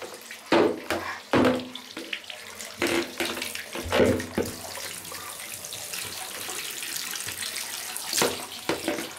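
Water runs from a tap into an empty bathtub in bursts that start and stop, with splashes and gurgles nearby, and a clatter or two between the flows.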